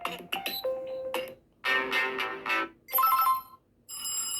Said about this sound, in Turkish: Zil sesi için burada bir sürü seçenek sunulmuş arkadaşlar